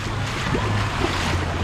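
Feet slosh and splash through deep flood water running down a street in Pattaya, Thailand, a continuous watery rush with low rumbling and wind noise, close and fairly loud.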